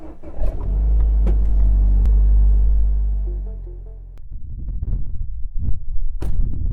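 A car engine rumbles loudly as the vehicle starts and drives off, a deep low drone that swells and fades, followed by scattered clunks and shuffling sounds.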